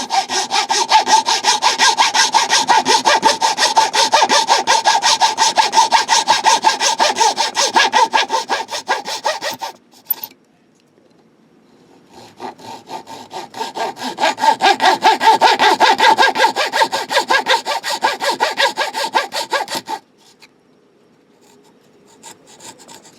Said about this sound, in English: I want to cut open a slot down to that hole that we just drilled.